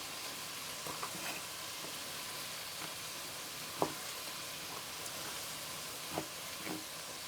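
Onions fry in a pan for a lentil and lamb stew, giving a soft, continuous sizzle with a few faint clinks from stirring, quiet and without talk.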